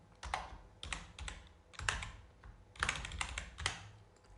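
Computer keys clatter in quick bursts of typing, close and clear, with short pauses between flurries of keystrokes.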